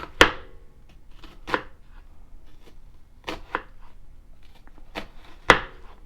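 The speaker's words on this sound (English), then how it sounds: "we're starting with an onion and we're going to dice it" A knife dices an onion on a cutting board with a few sharp, separate chops spaced irregularly, close and clear against a quiet background, and no one speaks.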